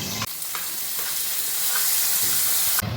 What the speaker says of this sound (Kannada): ಎಣ್ಣೆ ಕಾದ್ಮೇಲೆ ಮೆಣಸಿನ್ಕಾಯಿ ಹಾಕಿರೋದು ಫ್ರೈ ಮಾಡೋದು